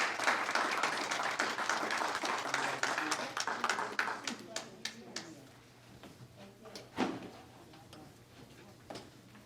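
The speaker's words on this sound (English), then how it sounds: "So just another round of applause." A crowd applauds, dense clapping at first that thins out to scattered claps and fades.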